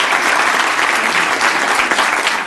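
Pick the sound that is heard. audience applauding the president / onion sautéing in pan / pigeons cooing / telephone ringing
audience applauding the president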